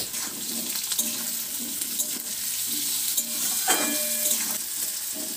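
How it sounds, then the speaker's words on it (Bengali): Potatoes frying in a pan with salt and turmeric, browning while being stirred; a steady, close sizzle runs throughout with repeated scraping stirs, and no one speaks. "এখানে আলু একটু বাদামি করে ভেজে নিতে হবে"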